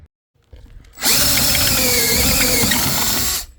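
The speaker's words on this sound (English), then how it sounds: "As I find they drill through metal much better than a twist bit" A power drill bores through half-inch-thick metal while fitting a power door to an RV front door: a brief low start, then a loud, close, steady whine for about two and a half seconds before it stops.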